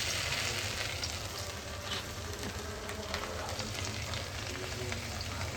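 Chopped vegetables, carrots going in first, fry in a pan in a home kitchen, giving a dense, even sizzle that stays close and constant throughout with no clear voices.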